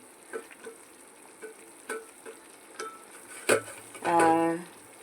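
Onions, with a green chilli, sizzle in butter in a pan as a spoon taps and scrapes in an irregular rhythm, and a louder burst of frying swells near the end.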